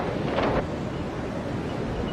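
Wind blows steadily over the open sea, a loud, continuous buffeting rush against the microphone with no voices.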